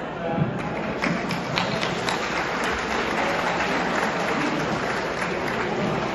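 Audience at a musicians' ball giving a big round of applause, dense steady clapping from a large hall crowd, fairly close and even throughout, with a few louder individual claps standing out.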